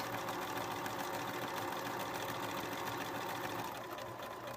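A sewing machine runs steadily, stitching a striped quilt block, its rapid mechanical stitching whirring continuously at close range, slowing slightly near the end.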